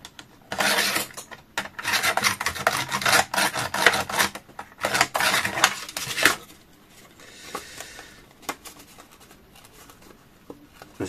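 Decorative stamp-edge scissors from Action cut through thick scrap paper in a run of rough, rasping crunches. The snips are loud and close for the first six seconds, then come as softer, scattered cuts. No one speaks.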